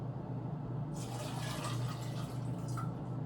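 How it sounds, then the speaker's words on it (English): Water poured into an open-topped enema kidney bag hanging from a rod at home, a steady close splashing fill that swells after the first second and runs on continuously, with no talking. "open up the kidney bag here at the top and pour it in"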